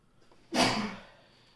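A woman sneezes once, a single sharp burst that fades quickly, close to the microphone in a quiet room.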